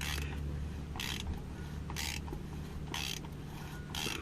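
A tool ratchets while tightening a part during an oil change on a 2017 Toyota Kluger, with five evenly spaced bursts of close mechanical clicking over a low, steady hum.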